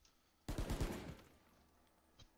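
A rapid burst of gunfire sprayed from a weapon in the video game Valorant, several quick shots in a loud close cluster fading into a reverberant tail, then a single faint shot.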